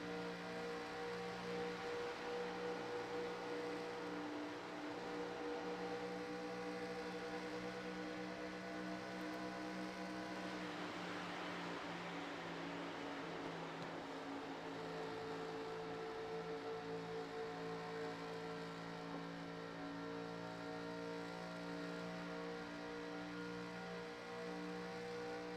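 Onboard at Daytona in a 1987-era NASCAR stock car race: a steady, droning engine note holds at high revs, shifting slightly in pitch partway through, with constant wind and road noise and no talking.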